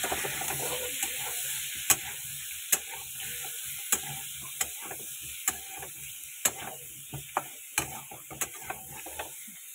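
Potatoes frying with turmeric in a pan, a steady sizzle with a high hiss and repeated sharp clicks and scrapes of a spatula stirring against the pan, close and moderately loud.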